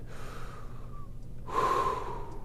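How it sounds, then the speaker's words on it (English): A person taking a deep breath during a rib pain relief exercise, a quiet faint inhale followed by a louder, rushing exhale close to the microphone, with no talk. "now I'm going to breathe"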